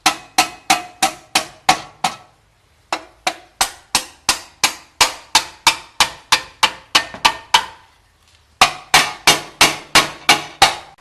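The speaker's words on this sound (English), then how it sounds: "just get the rubber mallet and just bang away, bending the tips, these tips completely back" A rubber mallet bangs repeatedly on the tips of a brake dust shield, bending them back during a big brake kit install on a 2010 Honda Accord V6. Loud, sharp, evenly spaced blows come in bursts of about seven to twelve, with short pauses between runs.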